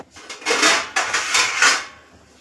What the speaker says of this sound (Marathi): मी पाणी उकळायला ठेवले, त्याच्यावर हे चाळण ठेवून देऊया